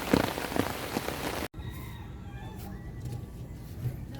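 Steady rain patters on a surface, loud at first, then after a sudden cut continues softer with scattered drops, a faint voice briefly underneath.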